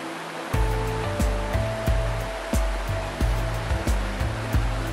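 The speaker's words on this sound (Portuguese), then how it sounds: "vem a Cachoeira do Funil, uma esplêndida queda d'água" Steady broadband roar of the Cachoeira do Funil, a large waterfall, runs continuously with no talk, overlaid by regular rhythmic tonal thumps roughly every half second.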